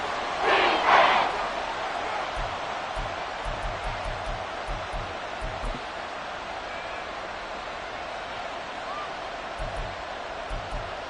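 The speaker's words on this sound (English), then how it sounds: "the crowd getting into it as we come up on a big 3rd down" A football video game's stadium crowd roars steadily throughout as a big third down approaches, a broad wash of cheering with a brief louder swell near the start and no talk over it.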